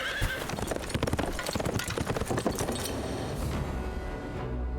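A horse-drawn carriage in an anime pulls away, hooves clip-clopping in a quick, dense rhythm with a horse's whinny, loud and close, then fading toward the end.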